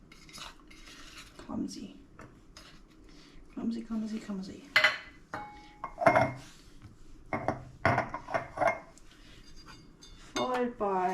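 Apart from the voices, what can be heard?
apple pickle pieces clinking into glass jars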